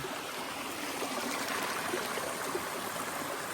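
A mountain stream pours steadily down rocks near a hiking hut, a continuous close rushing of water with no pauses and no talking.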